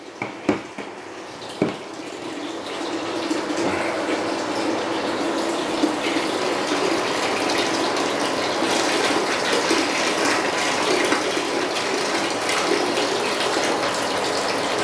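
Water runs steadily through a DIY aquarium overflow box, a continuous broadband splashing flow with a few sharp knocks at the start, close and fairly loud, with no one talking.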